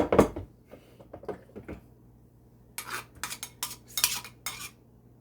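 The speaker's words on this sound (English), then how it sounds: "we're going to use a spoon, the back of the spoon. And we're going to strain it with a strainer." A spoon scrapes and clinks against a metal strainer while pressing cranberry sauce through, in short irregular bursts with pauses between, close and fairly clear, with no talk.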